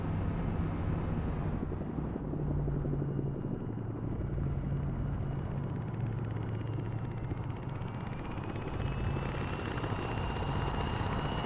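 A helicopter in the video game ArmA drones with a steady, throbbing rotor and engine hum that holds at moderate level for the whole stretch, with no talk.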